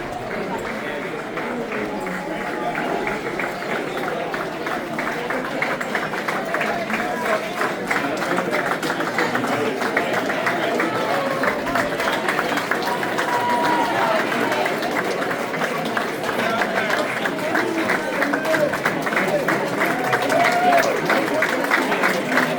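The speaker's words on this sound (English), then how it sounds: "Graduation here. Clap hands." A graduation crowd at St. Joseph College of Maine claps steadily in a dense, continuous patter that builds gently over about twenty seconds, with voices mixed in.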